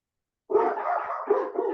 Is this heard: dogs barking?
yes